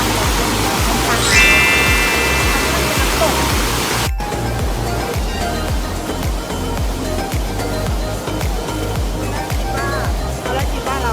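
Nang Rong waterfall in Nakhon Nayok, Thailand, gives a loud, steady rush of falling water throughout, with people talking over it.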